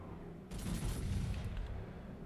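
Battleship Massachusetts firing a gun salvo in a naval video game: a sudden heavy boom lands half a second in, then a broad rumbling roar that fades out over the next second or two, with no speech.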